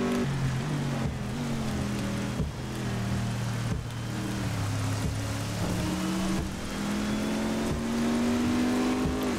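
Racing car engine in Assetto Corsa during a rainy, stormy race, a continuous gritty drone whose pitch climbs and drops with gear shifts, under a steady wash of rain noise, with no talk.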